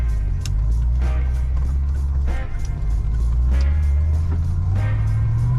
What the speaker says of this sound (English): As soon as we pull out, you'll hear clunking.